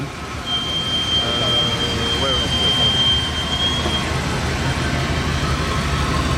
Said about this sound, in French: Grosse Cadillac américaine.